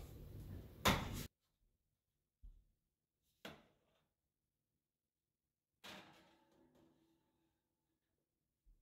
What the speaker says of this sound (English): Let's put it in the oven.